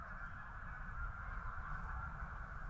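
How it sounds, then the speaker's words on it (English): Steady honking of Canada geese at a distance, blended into a constant background hum with no talking. "You may be able to hear the Canada geese in the background."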